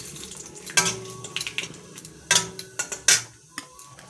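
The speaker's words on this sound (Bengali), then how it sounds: "লং এলাচি দিয়ে দিলাম। হালকা করে নাড়াচাড়া করলাম।" Cloves and cardamom sizzle lightly in a pan as a spoon stirs them, giving a soft frying hiss punctuated by several sharp metallic scrapes and clinks against the pan, close and without talk.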